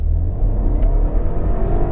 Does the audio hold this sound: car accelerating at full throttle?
yes